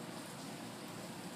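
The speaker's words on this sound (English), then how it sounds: "it's been raining in the complex" Rain falling in a residential complex in Fort Lauderdale, a soft, faint, continuous hiss of drops spread evenly with no other sounds standing out.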